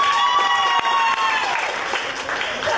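A stand-up comedy crowd claps and cheers when asked to make noise, loud sustained applause with whoops and a sustained whistle riding over it.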